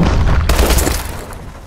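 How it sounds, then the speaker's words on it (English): A friendly bombing run in Call of Duty: Advanced Warfare sets off a loud low boom that blooms suddenly, then rumbles and fades over about a second. "Friendly bombing run clearing the way."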